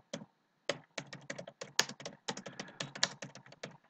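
Someone types on a computer keyboard in a word processor, uneven bursts of close, sharp key clicks with brief pauses between them.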